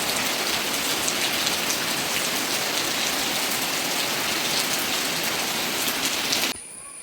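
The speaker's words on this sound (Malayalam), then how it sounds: "നല്ല മഴയാണ്" Heavy rain pours steadily, a dense, loud hiss of drops drumming on surfaces that holds unbroken until it cuts off abruptly near the end.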